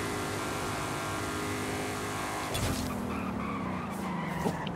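A Ford Mustang or Dodge Charger in Forza Horizon 5 braking hard, engine drone cutting into a sustained tire skid and squeal midway, loud and close with no talking.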